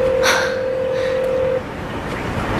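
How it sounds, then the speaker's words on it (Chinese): A telephone rings in a quiet outdoor setting as a single steady electronic tone, fairly loud, that holds for about a second and a half and then cuts off, leaving faint background noise. "好像有电话的声音"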